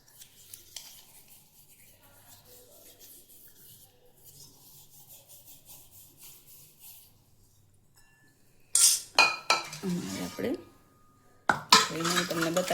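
Brass puja vessels are scrubbed clean with household ingredients: faint rubbing at first, then loud bursts of metallic scraping and clinking near the end.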